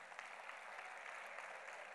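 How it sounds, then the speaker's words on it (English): Audience applause at a school's annual prize day, a steady, even wash of clapping held at a moderate, fairly distant level for the whole stretch, with no voices. "Please give him a big round of applause."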